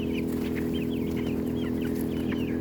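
Chickens clucking steadily on a grass pasture behind a shop, with several birds calling in repeated short phrases over a constant low hum, fairly close and alone without talk.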